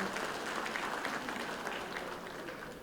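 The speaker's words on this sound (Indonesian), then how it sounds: "Tepuk tangan untuk Mas Anin." Steady applause from an audience at a Kadin Indonesia business gathering, a dense even wash of many hands clapping throughout, moderately loud and without a break.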